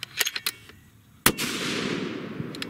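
A 6.5 Creedmoor rifle fires a single loud shot of a Hornady 100-grain ELD-VT handload with 42 grains of powder, a sharp crack followed by a long rolling echo, with a few small clicks and handling noises before it.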